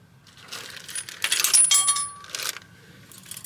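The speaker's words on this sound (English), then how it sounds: "Throw a couple of bolts in there." Metal bolts dropped onto a 5.7 Vortec engine's intake area during a top-end rebuild, heard as a quick burst of bright metallic clinks and rattles lasting about a second, close and fairly loud.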